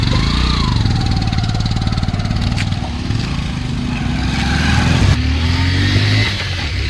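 A motorbike engine turns over and revs loud and close, the pulse climbing then holding at a steady rough drone for several seconds, no talk.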